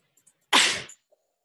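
A single short, loud sneeze bursts out indoors, breathy and sharp, surrounded by near silence.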